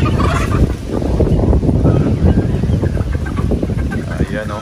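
Young chicks in a brooder cheep and peep continuously, a dense, loud chorus of overlapping high chirps from many birds close by.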